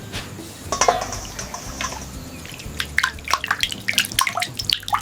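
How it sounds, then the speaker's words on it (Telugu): Boddengulu, a wild tribal food gathered around Araku, being washed in water, with steady splashing and sloshing that grows busier toward the end, close by and with no talk. "ఇవి శుభ్రంగా కడుగుతారు."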